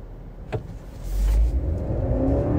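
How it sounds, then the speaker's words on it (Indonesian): A 2022 Honda CR-V e:HEV hybrid, with an electric motor and a conventional petrol engine, accelerates in sport mode. A brief click comes first, then a low, smooth drive hum swells and holds steady. "Kita coba ya bagaimana akselerasi dari mobil CRV EHEV ini karena dilengkapi dengan motor listrik dan juga mesin konvensional masuk ke mode sport"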